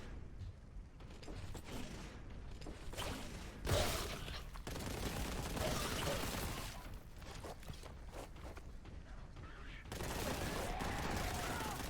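Rapid gunfire in the first-person shooter Warhammer 40,000: Boltgun, a dense continuous barrage of shots and impacts with a heavy thump partway through, loud and sustained across the whole stretch.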